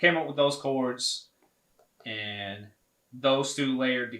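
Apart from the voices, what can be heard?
No everyday noise stands out behind the speech.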